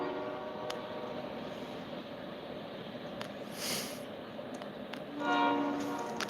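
A train rumbles by steadily at a distance, with a horn sounding faintly over the low rolling noise.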